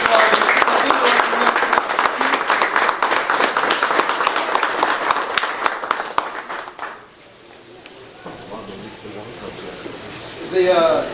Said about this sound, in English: But big round of applause.